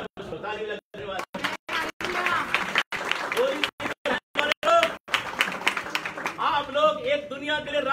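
A church congregation at a street worship gathering in Ludhiana claps in bursts, the applause broken by gaps and mixed with a preacher's loud voice speaking over it.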